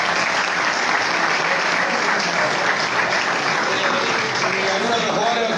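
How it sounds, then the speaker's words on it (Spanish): Loud, dense applause fills a football club's presentation of its squad and kit for a regional tournament, a large crowd clapping continuously and evenly throughout, with faint crowd murmur underneath. "Y David, un aplauso"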